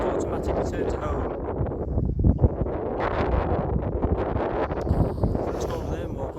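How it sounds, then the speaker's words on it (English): Strong outdoor wind buffets the microphone continuously during a high-wind test of a Syma X21 drone, a steady rumbling roar with gusts that swell louder midway. "It's dead windy today as well."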